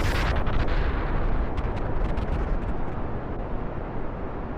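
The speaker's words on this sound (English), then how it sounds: "What exploded below us?" A loud, broad explosion rumbles up close in the space game Kerbal Space Program, with a sharp burst at the onset followed by sustained roaring debris noise that slowly fades.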